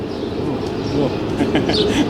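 Soft, low pigeon cooing blends into a busy background of chatter and ambient noise, with faint chirps near the end.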